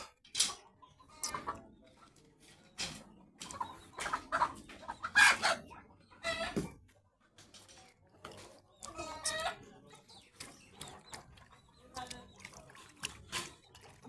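A chicken bathing in a small swimming pool clucks in scattered bursts, with occasional splashing and water movement, close by, as a person talks intermittently.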